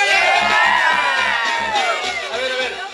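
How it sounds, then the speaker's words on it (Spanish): Loud crowd at a zapateado dance contest shouts, whoops and cheers for a male dancer, a dense continuous roar of voices filling the space with shrill yells rising above it. "Un grito para José."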